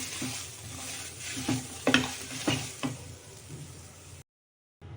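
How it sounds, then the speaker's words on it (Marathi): Radish thecha ingredients dry-roast in a pan without oil, giving a soft steady sizzle broken by several sharp scraping stirs of a spatula, close and moderately loud, ending in a brief silence. "या पद्धतीने सर्व वस्तू भाजून घ्यायच्या"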